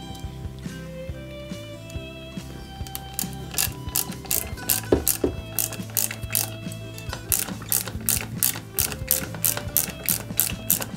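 Small screws being driven into a plastic Lancia 037 scale model kit while fitting the protective bulkhead, a close series of fine ratcheting clicks from a screwdriver that grows denser and more rhythmic toward the end.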